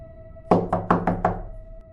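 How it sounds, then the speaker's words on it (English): Five heavy knocks strike a door in quick succession, loud and close, over a faint steady hum. "a heavy knock rattled his front door"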